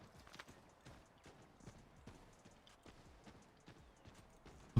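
Horse hooves clip-clop at a steady walking rhythm in the Assassin's Creed 3 video game, a moderately quiet run of hollow knocks over a low ambient bed, with no talk.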